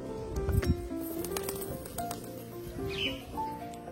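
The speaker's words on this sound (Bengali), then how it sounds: "এই যে দেখো আমার বাড়ির লাল জোড়াটা, এই দুটো কিন্তু আমার বাড়ির অনেক পুরনো পায়রা" An old red pair of pet pigeons coos softly at a home loft, low soft calls repeating over steady background noise, with faint patter and bird movement.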